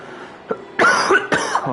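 A person gives a few harsh, close coughs in quick succession, loud and raspy, with a short quieter sound before them and no talking over them.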